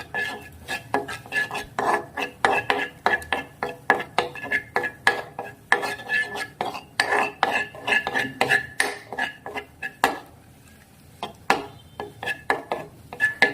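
Garlic chutney in oil is stirred steadily in a pan, and the spoon scrapes and clinks against the metal in quick, repeated strokes. It stays close and fairly loud, with a brief pause near the end.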